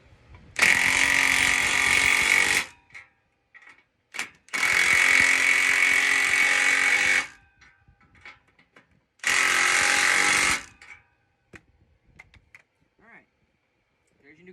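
An impact wrench rattles in three loud bursts of about two to three seconds each, tightening nuts on an exhaust clamp under a truck, with quiet pauses between bursts.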